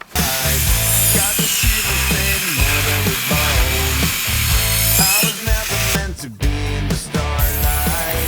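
A Vitals 1271TG mini power saw, sold as cutting metal, wood and concrete, whines loudly and close, its motor pulsing in rapid rhythmic strokes as it bites through material, with short breaks and restarts near the end.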